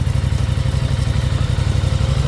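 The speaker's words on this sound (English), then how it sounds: "Oh man, that fires right up." A 2022 Aprilia RS 660 middleweight sport motorcycle with its stock exhaust idles in neutral just after starting, giving a loud, steady, close low throb with fast even pulses and no talk.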